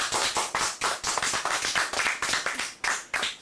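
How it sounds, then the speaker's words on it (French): Close, loud clapping from a small group for a magic act, sharp and fairly rhythmic slaps repeating quickly with no talking. "une bonne main d'applaudissement pour Magic Tom Tralala from Russia!"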